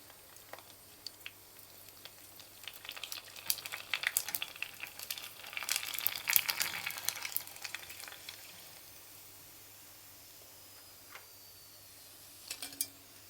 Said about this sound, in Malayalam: ഇനി നമ്മളെ പൂരി ഒന്ന് പൊരിച്ചെടുക്കാം.